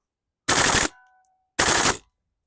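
Airsoft gas blowback rifle firing, with two loud, close bursts, each lasting under half a second, separated by a pause of about a second, followed by a faint mechanical click.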